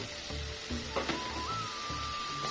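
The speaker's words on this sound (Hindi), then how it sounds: "अभी इसको अच्छे से भून लेती हूँ मैं" Chana pulao masala frying in a pot, with soft steady sizzling and occasional stirring clinks at close range, fairly quiet, with no voices.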